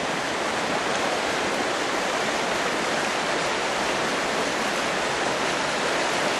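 Steady rushing of a flowing creek running higher than usual, a constant broadband wash of water close by with no breaks and no voices.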